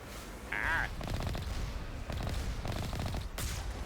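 Rapid bursts of gunfire from the Mass Effect video game fight against turrets, dense clattering volleys over a constant loud game background, with a brief electronic tone near the start.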